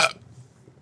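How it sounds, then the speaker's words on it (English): A single short, loud burp right up close after chugging beer, over within a fraction of a second and followed by faint room quiet. "We burp the same."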